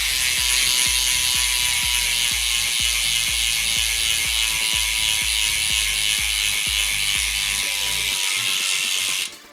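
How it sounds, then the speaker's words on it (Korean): DT240 hub freewheel on a Farsports carbon road bike wheel ticking as it coasts, a rapid, even ratchet clicking that runs steadily and close up, then stops abruptly at the end. "라체 소리였고요"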